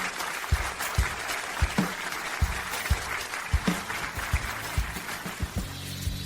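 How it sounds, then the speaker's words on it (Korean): Wedding guests applauding in a hall, scattered, uneven hand claps over a busy room murmur, moderately close and rising into a fuller patter toward the end. "박수를 보내자"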